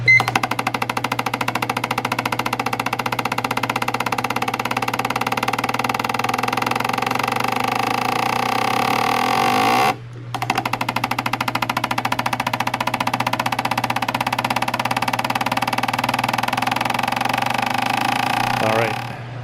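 A fuel injector cleaning machine runs with a loud, steady mechanical buzz and rapid rhythmic clatter, briefly cutting out midway before resuming and then winding down at the end.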